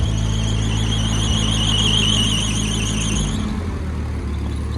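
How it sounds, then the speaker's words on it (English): A drive belt on an old half-track vehicle squeals loudly in a steady, wavering high whine over the engine's low rumble, then the squeal abruptly cuts out, leaving only the engine running. "it's still doing a bit of squealing"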